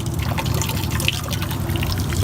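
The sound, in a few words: water pouring out of a homestead water collection system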